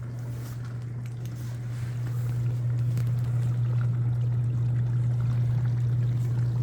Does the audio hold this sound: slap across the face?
no